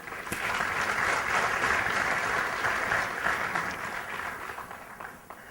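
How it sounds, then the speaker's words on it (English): An audience at an IIT Bombay leadership lecture applauds a speaker's introduction, a dense, sustained round of clapping that rises quickly, holds, then tapers off near the end. "a huge round of applause for Mr. Anand Kusre"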